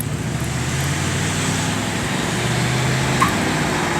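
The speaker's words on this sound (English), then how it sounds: "It's still pulling really good. Nice hard second to third shift." A car with a QuadraJet carburetor pulls hard under acceleration, heard from inside as a steady, continuous engine and road drone with a slight shift in pitch partway through.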